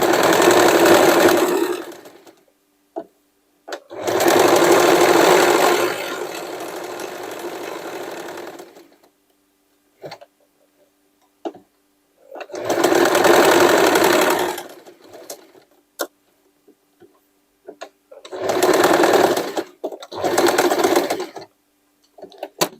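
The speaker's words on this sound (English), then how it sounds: "when I attach it here, I will use my triple zigzag" A sewing machine runs a triple zigzag stitch on denim from old jeans, in four loud bursts of steady stitching a few seconds each, separated by quiet pauses with small clicks of repositioning.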